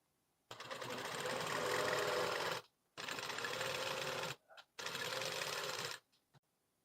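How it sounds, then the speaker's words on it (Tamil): A sewing machine stitches double piping for a blouse, whirring loud and close in three steady runs separated by short pauses, with a few brief clicks near the end. "நம்ம ரெடி பண்ண 2 கலரையுமே ஒண்ணா சேர்த்து நம்ம தையல் வந்து போடணும்."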